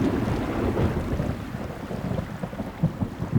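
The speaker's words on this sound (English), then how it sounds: "the storm that had been on their heels for days finally caught up with them, and there was nowhere to hide" A thunderstorm rumbles low and heavy, with gusting wind buffeting the microphone and a deep, rolling roar that swells and fades.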